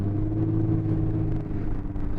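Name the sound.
2017 Lexus IS 350 engine revving as pedal is pressed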